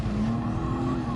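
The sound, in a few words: car crashing into wall in video game Gran Turismo Sport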